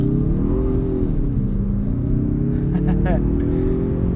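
A 2021 Mazda CX-30 Turbo SUV accelerating hard, its engine drone rising and dipping as it pulls, with a steady loud rumble under a voice talking over it.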